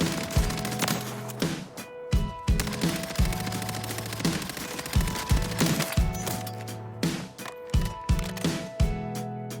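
Rapid automatic gunfire from a weapon fired without recoil control in the Call of Duty Warzone video game, loud repeated bursts with short pauses between them and no talk.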